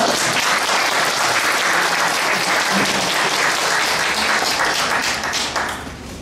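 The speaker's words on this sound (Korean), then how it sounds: "이때는 박수하면 아십니까?" Loud, dense audience applause fills a Korean academic seminar hall, holding steady for several seconds before tapering off at the end.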